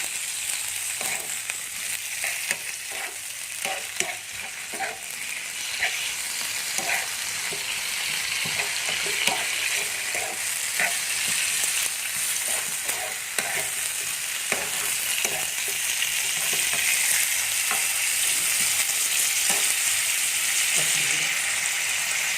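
Squid fries over raised heat in a pan for home-style cooking, a steady loud sizzle with scattered scrapes and clicks of stirring running continuously throughout.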